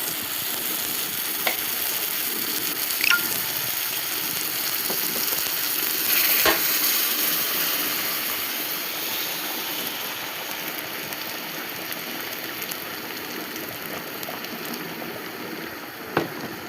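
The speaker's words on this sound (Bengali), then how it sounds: "এই তো বন্ধুরা, পানি দিয়ে দিলাম।" Boiling water from a kettle hits chicken khichuri frying in a pot, raising a loud, steady hiss and sizzle that runs throughout with a few light clinks.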